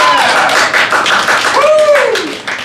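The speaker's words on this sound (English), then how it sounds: "Give them a round of applause." Scattered clapping from a small crowd at a comedy night in a Richmond cafe, uneven and fairly close, with voices and a whoop running over the claps.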